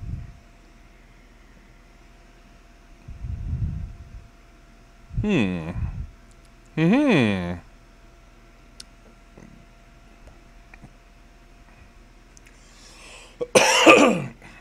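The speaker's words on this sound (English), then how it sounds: "I'm afraid you guys will have to put up with my coughing." Several close, harsh coughs come in separate bursts spread over about fifteen seconds, some as single hacks and some as short clusters, with quiet gaps between them.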